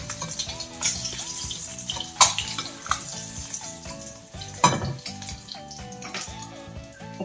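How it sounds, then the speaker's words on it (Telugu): Eggs fry and get stirred in a pan for an egg, raw mango and dry fish curry, a steady sizzle broken by several sharp scraping and clattering stirs, close and fairly loud. "మాకైతే కొంచెం వేయించాలి గుడ్లు. అయితే గుడ్లు వేగిపోయాయి,"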